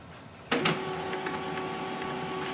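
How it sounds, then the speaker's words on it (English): A sharp click followed by an HP LaserJet M234sdw laser printer powering on after a toner replacement, with a steady mechanical whir and faint tonal hum continuing afterward. "wait for your printer to start"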